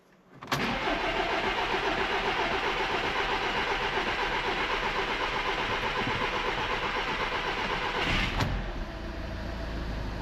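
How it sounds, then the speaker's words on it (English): A VW Passat 2.0L diesel engine, after injector replacement, cranks and catches, then settles into a steady running rumble with a brief clunk near the end. "Now it's time to start the engine."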